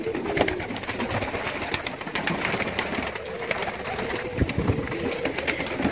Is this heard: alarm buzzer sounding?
no